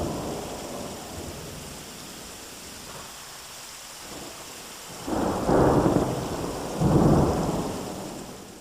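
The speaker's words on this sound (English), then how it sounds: "Uh-oh, monsoon time." Monsoon thunderstorm with rain in Phoenix, Arizona: steady rain hiss underneath as two loud, close rumbling thunder rolls build and fade in the second half.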